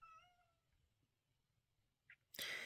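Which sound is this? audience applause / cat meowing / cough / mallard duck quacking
cat meowing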